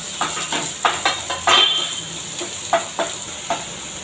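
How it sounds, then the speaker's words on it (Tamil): Onions sautéing in a little oil in a hot pan, with soft crackling and a few scraping strokes of a spoon against the pan. "அதை கொஞ்சமாக எண்ணெய் ஊற்றி வதக்கலாம்"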